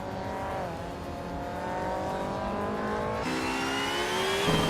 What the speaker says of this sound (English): Maya is driving a 1995 BMW M3 GT R Evo, currently in 5th place